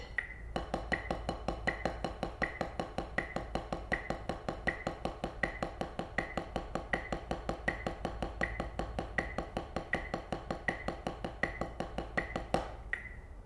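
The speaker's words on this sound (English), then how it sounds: "now you're going to put the click on the ands of the beat." A steady stream of fast drum strokes plays over a metronome click that sits on the offbeat ands, the pitched tick recurring evenly throughout, close and clear with no speech.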